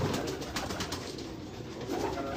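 Pigeons coo at a breeder's rooftop loft in Karachi with low, repeated throaty calls. Steady ambient noise and fluttering surround them, and no voices are heard.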